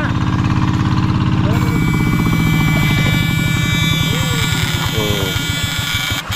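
A small boat's engine runs with a steady, loud buzzing drone, then winds down as it is switched off near the end, with voices talking over it.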